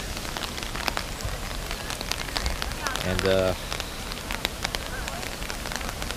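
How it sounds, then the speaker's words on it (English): Steady rain falling in a deer park in Japan, a soft continuous patter with scattered drops, close and moderate in level, with a brief voice and a short tonal sound partway through. "It's the first time it's rained since we've been here, so it's bound to happen."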